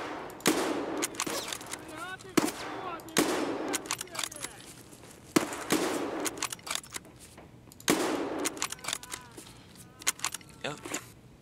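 Gunfire rings out in Escape from Tarkov, several separate bursts and single shots cracking loudly at irregular intervals, with echoing tails and some softer clicks between them.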